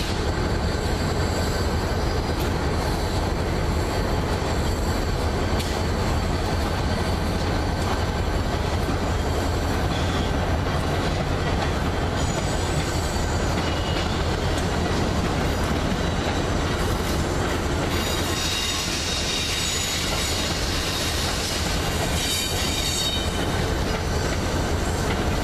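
An Amtrak Keystone train led by an AEM7 electric locomotive rumbles past at close range, loud and continuous, with rattling wheels and a brief high metallic squeal partway through.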